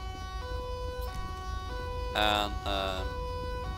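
A police car siren wails in GTA 5 during a traffic stop, with a steady tonal whine and two louder bursts partway through, over low engine rumble.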